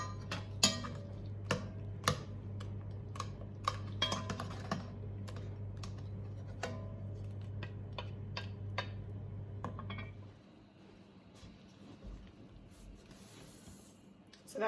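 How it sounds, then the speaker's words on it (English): Knife chopping fresh strawberries into small bite-sized pieces on a board for homemade jam, a run of quick, crisp, irregular taps close by, stopping about two-thirds through and giving way to quiet room noise. "so I'm going to chop those up now into bite-sized pieces"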